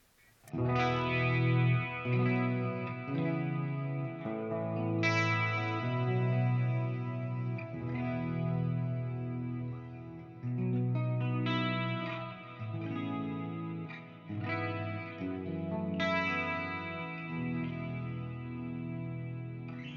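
Clean electric guitar chords through an EVH 5153 amplifier ring out with a wide, washy reverb tail, notes layered and sustained over about twenty seconds, played alone.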